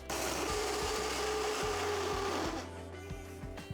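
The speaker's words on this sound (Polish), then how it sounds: "I teraz do malaksera włożę sobie część różyczek kalafiora. I będę teraz miksować." A food processor chopping cauliflower florets whirs loudly with a steady motor drone and rhythmic chopping pulses, easing down toward the end.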